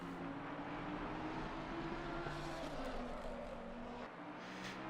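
A race car at speed on the Spa circuit during a 2.4-hour endurance event, its engine droning steadily and shifting pitch as it passes, heard from a distance with a constant wash of background noise.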